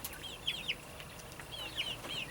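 Young chickens in a grow-out pen give a few soft, high clucks in two short bursts, fairly faint against a quiet background.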